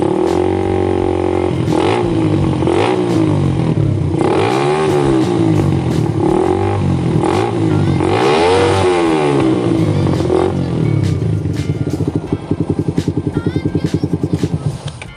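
A stock Suzuki Satria FU motorcycle engine with a PE 26 carburetor and open filter, unported, revs up and down repeatedly, loud and close, then settles into a fast, rough idle.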